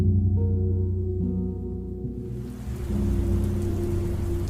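Steady rain pouring down in a back alley, a continuous wash of falling water that swells and grows louder partway through, with a low rumbling undertone beneath.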